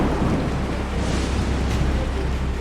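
Heavy rain pours down in a dense, continuous hiss, with a deep rumble of thunder rolling underneath it throughout.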